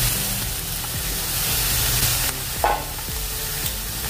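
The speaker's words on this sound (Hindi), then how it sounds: "अच्छे से मिक्स कर लेंगे।" Vegetables for pulav, including carrot, cauliflower and potato, stirred and mixed in a hot pot, a loud continuous sizzle with repeated scraping strokes and a sharper clink just past the midpoint.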